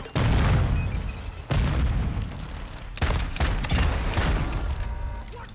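Grenade blasts in Warzone 2.0, several loud booming explosions in quick succession, each with a sharp onset and rumbling decay, mixed with gunfire-like crackle.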